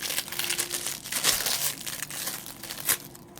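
Crinkly, rustling reflective bird repellent tape handled close up, with a few sharper crackles standing out from the steady crumpling.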